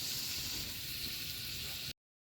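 Chicken, with ginger, browns in a pan in only its own rendered fat, giving a steady close hissing sizzle that cuts off abruptly near the end.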